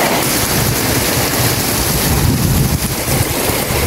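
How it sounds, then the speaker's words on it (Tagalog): Strong wind and heavy rain roar steadily outdoors near a soil dryer, a dense, continuous wash of noise with gusty rumble underneath and no voices. "Malakas po yung hangin tsaka ulan."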